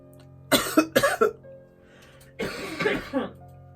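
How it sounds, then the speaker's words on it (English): Several sharp coughs in two close bursts, with a brief pause between them, close to the listener. "Okay, you coughed."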